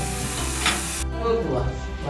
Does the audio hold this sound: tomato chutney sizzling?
yes